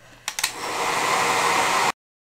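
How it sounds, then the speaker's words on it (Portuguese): A hair dryer dries a painted MDF box. It clicks on, then blows with a loud steady whoosh for about a second and a half before cutting off abruptly. "Eu agora vou secar minha caixinha com o secador."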